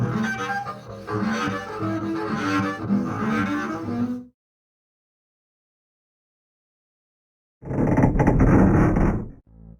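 A hidden hideout mechanism in a wall in a video game opens further with a loud, rough grinding rumble that stops, leaving a few seconds of silence before a second burst of heavy scraping.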